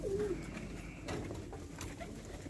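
Low pigeon coos murmur steadily against a dull background rumble, several homing pigeons close together in a loft, with no voices.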